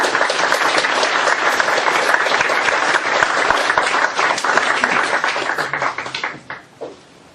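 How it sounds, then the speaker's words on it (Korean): A lecture audience greets a guest professor at a philosophy colloquium with loud, sustained applause that stays dense for several seconds, then thins out and fades to a few scattered claps. "같이 박수로 맞이하겠습니다"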